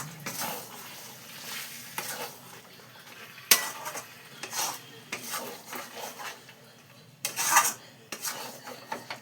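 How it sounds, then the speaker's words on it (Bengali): Chicken with green chili and kasuri methi is stirred in a pan, with intermittent scraping and rubbing strokes over a soft sizzle and a few sharper metallic clinks. "কটা কাঁচা লঙ্কা দিয়ে দিলাম, কসুরি মেথি দিয়ে এবার একটু নাড়িয়ে নিই"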